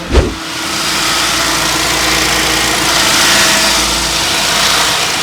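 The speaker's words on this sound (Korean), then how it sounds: "그리고 시동을 켜서 엔진 소리 한번 들어보도록 하겠습니다." A Genesis BH380 car engine, cold-started, idles loudly and steadily after a brief start-up burst, with a rough, rattly running hum and belt-like whine throughout.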